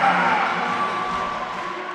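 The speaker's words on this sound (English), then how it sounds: "It's got the crowd going." A volleyball crowd at a Cincinnati versus BYU Big 12 match cheers and roars in a sustained, loud wash of voices that holds steady throughout, with no commentary over it.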